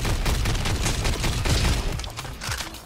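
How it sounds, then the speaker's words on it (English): Grenade explosions in the FPS roguelite Roboquest, a dense loud rumbling barrage of overlapping booms and gunfire-like bursts filling the whole stretch without pause, tapering slightly at the end. "it is pretty fun throwing the grenades"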